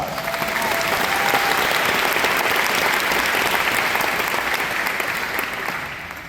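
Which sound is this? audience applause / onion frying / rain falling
audience applause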